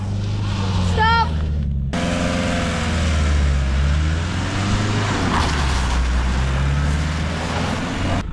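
A van's engine revs hard, a low droning roar rising and falling as it strains to climb out of being stuck on a frozen volcano, with excited voices shouting over it.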